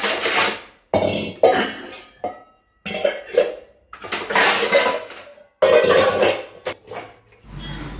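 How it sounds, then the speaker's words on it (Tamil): Washed pots and dishes are lifted and set down in a home kitchen, giving a series of close metallic clanks and clatters separated by short silent gaps. "விளக்கி வச்ச பாத்திரத்தை அந்தந்த இடத்துல முதல்ல எடுத்து வைக்கணும்"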